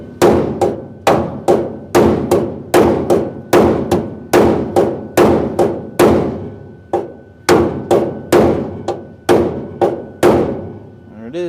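A hammer strikes metal on a drag-and-drive project car over and over in quick, sharp, loud blows, grouped in bursts with brief pauses between runs.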